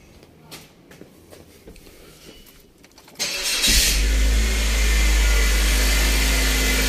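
A Dodge Caliber, one with a charging fault, is quiet at first with faint clicks, then its engine cranks and catches at about three seconds and settles into a loud, steady, close running hum.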